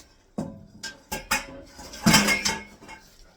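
Diced tomatoes and sauce for goulash are mixed in a pot, with a spoon clanking and scraping against the metal in several uneven knocks, close and fairly quiet.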